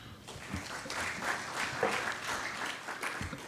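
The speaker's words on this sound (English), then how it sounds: "A round of applause for Soma." An audience at an African oil and gas farmout forum claps in a steady, moderately loud round of applause that carries on evenly for a few seconds, with no speech over it.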